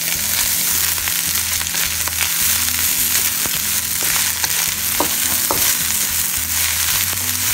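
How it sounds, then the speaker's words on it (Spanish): Fried rice ingredients stirred in a frying pan, a loud constant sizzle with repeated scraping and clinking strokes and a rhythmic low hum throughout. "aquí le voy a agregar mis ingredientes y lo voy a revolver"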